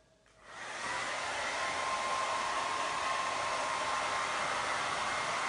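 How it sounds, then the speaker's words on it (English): A hair dryer blows steadily on acrylic paint during a landscape painting session, switching on after a brief quiet moment and then running as a constant loud airy whoosh until the end, with no talking. "So we're going to blow dry for just a minute"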